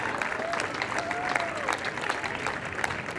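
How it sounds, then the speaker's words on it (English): An audience applauds in a steady wash of clapping, with faint voices mixed in. "Give them a warm applause, please."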